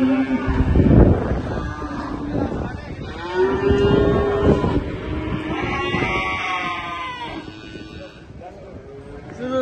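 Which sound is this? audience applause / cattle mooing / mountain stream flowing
cattle mooing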